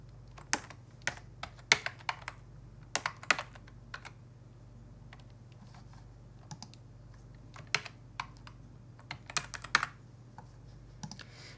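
Keys on a computer keyboard are tapped close by in irregular bursts of quick, crisp clicks with short pauses between words, over a faint steady hum in an otherwise quiet room.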